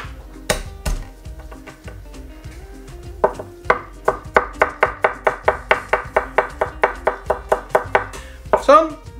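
A knife chops garlic on a cutting board while taco soup is prepared at home. A few scattered knocks come first, then a fast, steady run of crisp, close chops, with a little talk in the background.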